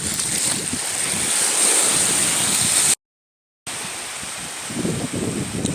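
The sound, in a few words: ocean waves on Khao Tao Beach, Hua Hin, Thailand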